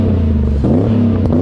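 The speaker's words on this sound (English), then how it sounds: "it does have a Magnaflow exhaust, which probably explains why it sounds so darn good" A Camaro IROC Z28 with a Magnaflow exhaust revs loudly up close in one short, throaty rise and fall with a deep, rumbling tone.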